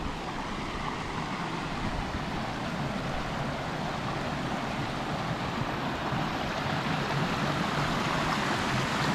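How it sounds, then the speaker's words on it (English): Small waterfalls cascade over a series of rock pools at the Cascades, a steady, broadband rush of tumbling water, close and constant with no other sounds over it. "Close-up view of the Cascades. With a series of little rock pools, little waterfalls."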